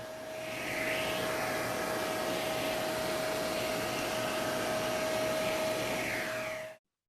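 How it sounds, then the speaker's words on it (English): A vacuum cleaner runs with a natural bristled brush held at its nozzle, giving a steady, close whirring drone with a high whine that holds for about six seconds, then cuts off abruptly. "brushing into the nozzle of the vacuum"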